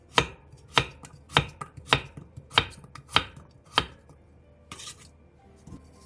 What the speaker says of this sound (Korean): 3cm 정도 두께의 무 한 토막도 오이와 비슷한 길이와 두께로 한 입에 먹기 좋게 잘라주세요.